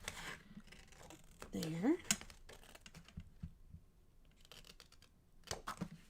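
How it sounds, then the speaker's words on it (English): Cutting along a marked line, heard as a few short snipping and scraping strokes with a brief rising squeak, close and fairly quiet, alongside intermittent talking. "now I'm going to turn this over and I'm going to cut it off at the line"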